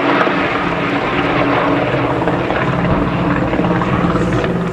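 Lockheed P-38 twin-boom fighter with two Allison V12 engines droning loud and steady at an air show, a dense continuous roar with no talking.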